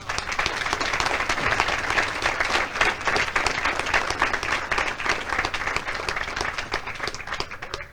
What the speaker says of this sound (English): Ladies and gentlemen, please join me in giving our awardees a round of applause.